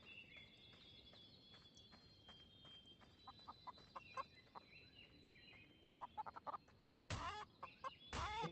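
Chickens cluck in Blade and Sorcery, soft scattered clucks at first, then two sudden loud squawking bursts near the end.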